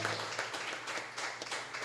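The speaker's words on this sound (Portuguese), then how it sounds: "Você pode aplaudir ao Senhor." Church congregation applauding at the close of a Wednesday night worship service, a dense steady wash of clapping hands throughout, moderately close and fairly even in level.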